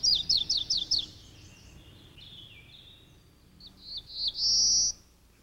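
A warbler sings nearby, a rapid series of high, sharp chirped notes at first, a thinner trilling passage, then a rising buzzy phrase that ends in a loud sustained note.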